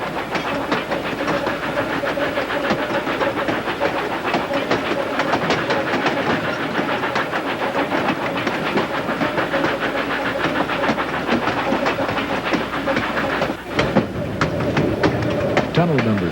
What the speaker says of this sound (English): The locomotive is starting to struggle against the grade.